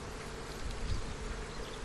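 Dense, continuous buzzing of honey bees inside an open beehive at an airport apiary in Dortmund, a loud close-up drone with no talk.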